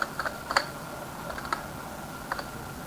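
Someone types the word if on a computer keyboard with a few light, quick clicking keystrokes clustered near the start, then two more taps later. The taps are close but soft over a steady background hiss, with no talking.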